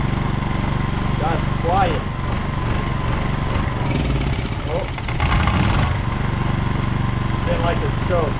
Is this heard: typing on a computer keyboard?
no